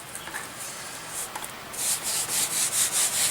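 Flour-dusted pastry dough for apple, almond and blueberry jalousies is rolled up onto a rolling pin, a soft close scraping and rubbing that grows into a rhythmic series of brushing swishes, with no voices.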